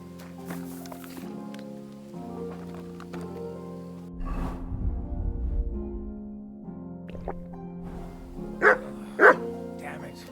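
A dog barks in the video game Kingdom Come Deliverance II, a run of close, loud barks and yips over a low game ambience, with a character's voice heard briefly.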